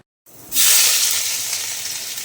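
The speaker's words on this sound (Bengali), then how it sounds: "তারপর দিয়ে দিলাম পেঁয়াজ এবার এটা একটু ভাজা ভাজা হোক" Garlic, onion and black cumin seeds fry in hot oil, starting with a sudden loud sizzle after a moment of silence, then a steady close hiss that continues without a break.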